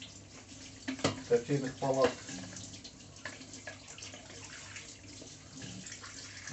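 Water poured from a kettle to brew coffee, a short trickling splash of liquid lasting about a second, close and fairly soft, followed by quiet room sound while someone speaks.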